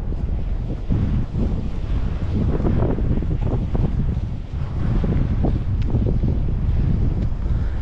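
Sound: wind blowing, wind noise on microphone

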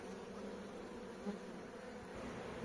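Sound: honeybees buzzing

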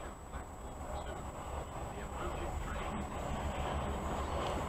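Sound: trains approaching

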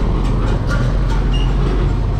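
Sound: passing trucks on the road

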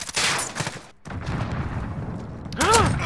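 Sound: 680 shotgun with incendiary rounds firing in Call of Duty video game

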